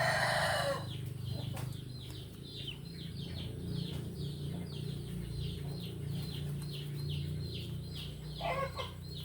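Gamefowl roosters and chickens cluck and crow repeatedly in a farmyard, many birds calling at once in a busy, layered chorus at moderate distance with a low background rumble.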